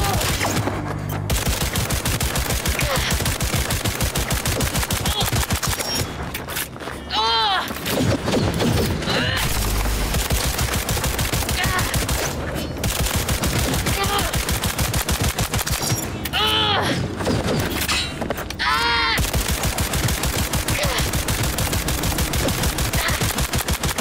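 Sustained automatic gunfire from a gun in Cyberpunk 2077, loud and nearly continuous rapid bursts with brief pauses, dense and close throughout with no clear speech.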